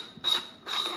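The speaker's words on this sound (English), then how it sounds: "you dismantle this grinder exactly the same." A 1Zpresso J hand coffee grinder is dismantled, making two short creaking, grinding mechanical turns with a steady high metallic whine underneath, close up and alone.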